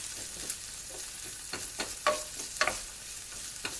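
Jalapeños sautéing in a pan for a spicy patty melt, a steady faint sizzle broken by several soft scraping stirs at irregular intervals, heard up close with no talking.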